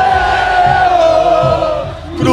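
Cruzeiro football supporters in the stands chant loudly together in a sustained, celebratory roar right after a goal against Atlético, the massed voices close and steady before dipping briefly near the end.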